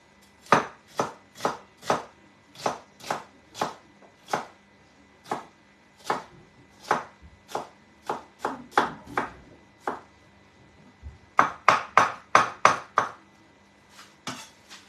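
A knife chops food on a cutting board in sharp, evenly spaced strikes, about two dozen crisp chops with a quicker burst near the end, close and clear with no talking.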